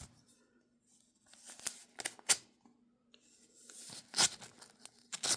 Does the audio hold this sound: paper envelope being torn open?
yes